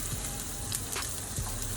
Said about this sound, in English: It's about to start sizzling as soon as I drop it.